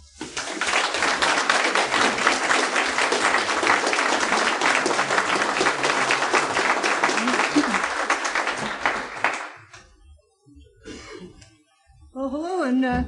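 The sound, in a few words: audience applause welcoming speaker Judy Wood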